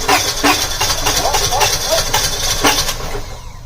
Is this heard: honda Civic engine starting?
yes